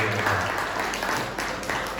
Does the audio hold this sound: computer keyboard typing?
no